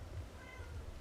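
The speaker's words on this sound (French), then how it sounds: "Ta gueule le chat, je t'aime." A domestic cat gives a single short meow during a Dark Souls 2 play session, faint and fairly brief over a low hum, with no talking.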